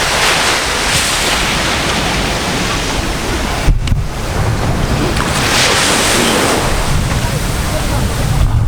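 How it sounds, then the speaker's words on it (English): Ocean waves wash steadily onto the shore at Mati, a broad, loud, continuous surf hiss with wind in the background and a brief dip partway through. "Yeah, beautiful ocean front."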